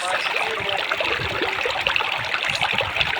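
Steady rushing water from a waterfall at the stone house temple park in Maibang, Assam, a continuous close wash of noise that never lets up for the whole stretch.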